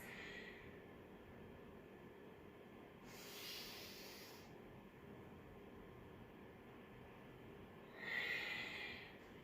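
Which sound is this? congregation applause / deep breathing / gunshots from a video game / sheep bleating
deep breathing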